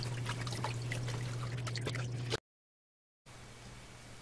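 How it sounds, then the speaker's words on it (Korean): Pollock skin is rinsed in rice water with continuous sloshing and trickling, close by. It cuts out briefly, then resumes with a steady low hum underneath. "한 번, 두 번 쌀뜨물에 씻어주고 세 번째는 그런 수건으로"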